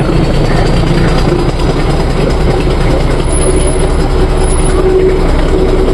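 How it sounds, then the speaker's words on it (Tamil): A train reverses steadily along the rails nearby on a mountain railway route while switching tracks, a continuous low grinding roar with faint metallic squeal on top, no voices. "ரிவர்ஸ் வருதுங்க ட்ரெயின்."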